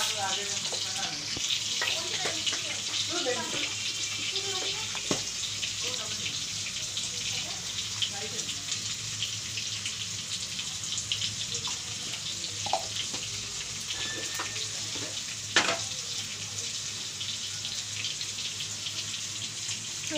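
Food sizzles steadily in oil in a pan, a continuous hissing fry with a few faint clinks of stirring, while voices chat quietly nearby.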